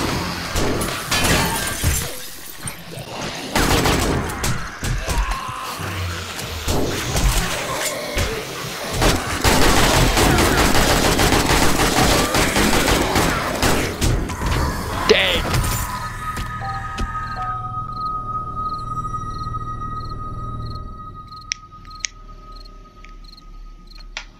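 Dense, rapid gunfire from 7 Days to Die during a day-21 horde night crackles and crashes for about fifteen seconds, mixed with shattering impacts. It then drops away to quieter ambience with steady chirping and a few sharp clicks.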